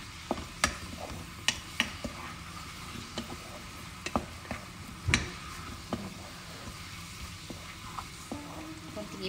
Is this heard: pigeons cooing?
no